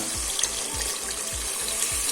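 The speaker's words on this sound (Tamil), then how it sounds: "இந்த டைமில் நம்ம கரைச்சி வச்ச புளிக்கரசில் சேர்த்திக்கலாம்" Tamarind water pours into a simmering mackerel fish curry, a steady wet splashing with soft rhythmic low thumps repeating about twice a second.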